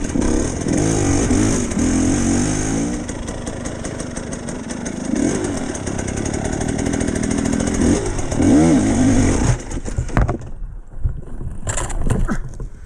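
GPX TSE 300 motorcycle fitted with a new carburetor, its single-cylinder engine revving hard and buzzing close up for several seconds, then cutting back to a rougher idle with brief blips.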